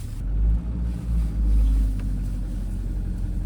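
An FSO Polonez car engine fires up and settles into a steady low, throbbing rumble close by, loud and unbroken, with no talking.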